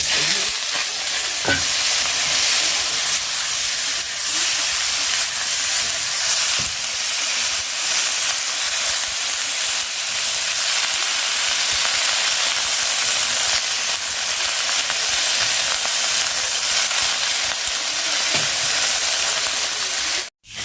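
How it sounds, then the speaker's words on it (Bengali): Flat beans with a few potato pieces fry in a pan, a loud continuous close sizzle and hiss that runs unbroken for the whole stretch, with occasional light clicks of stirring and no talk. "সিম ভাজা হয়ে গিয়েছে আর সিমের মধ্যে দু একটা আলু দিয়েছিলাম"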